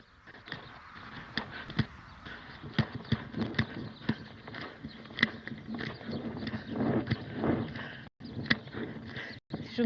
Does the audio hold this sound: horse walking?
yes